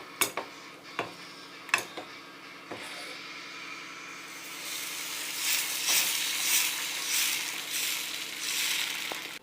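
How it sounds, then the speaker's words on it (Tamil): Dosa batter is poured onto a hot pan for breakfast, opening with a few sharp utensil clinks before a steady hiss and sizzle builds and carries on close by. "இப்போது தோசை ஊற்றிக்கலாம்."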